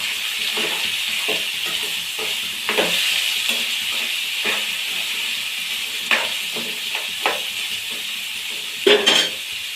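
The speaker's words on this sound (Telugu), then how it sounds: "ఇప్పుడు క్యాప్సికమ్ వేసుకోవాలి. నెక్స్ట్ క్యారెట్ కూడా వేసుకోవాలి." Capsicum and carrot going into a hot pan with peanuts and ginger-garlic paste for a masala curry, giving a constant hiss with repeated clinks and scrapes of a spoon against the pan, no talking.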